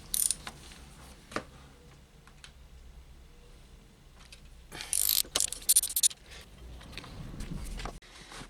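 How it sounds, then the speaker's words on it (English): A 12mm socket on a spanner loosening the fork pinch bolt on a Honda CA Rebel 125 motorcycle, scattered metallic clicks with a dense burst of rapid ratcheting midway, close, no talk. "we need to loosen up or completely remove the pinch bolt"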